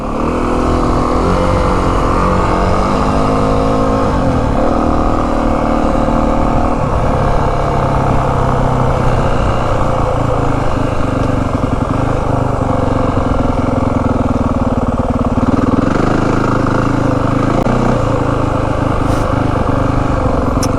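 A 2025 Yamaha WR 450F dirt bike engine roars loud and steady while riding, with a dense throbbing drone and shifting pitch as the throttle rises and falls, overpowering wind noise and no clear voices.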